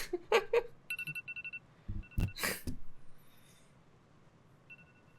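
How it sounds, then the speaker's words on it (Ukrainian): A timer alarm rings in short repeated electronic beeps during a Rust game session, the bursts broken by brief breaths and rustles, then fading to faint isolated tones near the end. "таймер грає"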